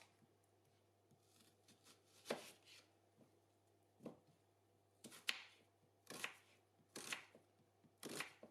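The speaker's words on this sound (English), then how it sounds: "Here I am slicing the onions." Knife slicing a large onion on a board in a quiet kitchen, about seven crisp, separate cuts at an uneven pace, close and clear with no talk.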